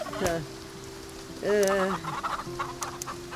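Turkeys gobble in the farming video game Farm Together, two quick warbling calls close up, the second louder, with soft clucking in between.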